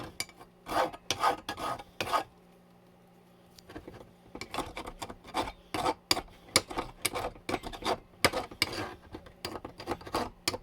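A metal file rasps against the exhaust muffler support of a Yamaha Road Star Silverado XV1600, in close, loud strokes that come in quick rhythmic bursts, some grouped tightly and others spaced apart, with short pauses between runs.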